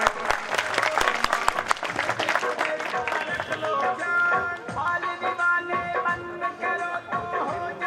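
A crowd at a community talent-award ceremony claps loudly to welcome a guest onto the stage. The dense applause fills the first few seconds, then thins and fades as music with sustained tones takes over.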